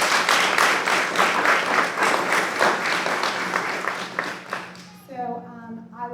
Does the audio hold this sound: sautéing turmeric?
no